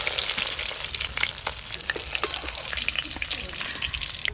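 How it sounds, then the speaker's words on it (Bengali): Fish sizzles steadily in hot oil, a dense close crackle with frequent small pops and spits running without pause, for a Bengali home-cooked fish curry. "এক থালা মাছ ভাজা হয়ে গেল"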